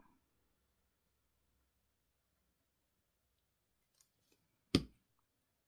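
Scissors snipping paper while making a double accordion pop-up card, a quiet room with a couple of faint ticks followed by one sharp, close cut.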